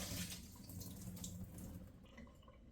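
Water is drained off soaking broccoli sprouts in a kitchen, a soft steady pour and trickle close by that thins out near the end.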